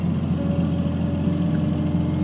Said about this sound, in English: Car always starts on the first start.